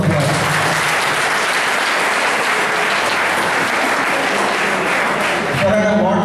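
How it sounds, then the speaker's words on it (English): Dense, loud audience applause fills a contest event hall, a steady wash of many hands clapping throughout, fading briefly just before the end. "So big round of applause."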